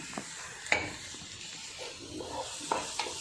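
Ground fennel and ginger paste stirred in a hot pan, a quiet low sizzle with a few distinct scraping clicks of the spoon against the pan, close and faint.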